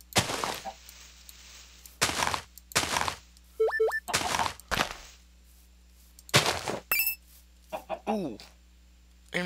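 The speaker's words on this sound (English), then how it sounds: "that chicken scared the crap out of me" A chicken in the Minecraft Hexxit modpack gives short, sharp clucks in separate bursts, with sparse game sound effects between them and no talking.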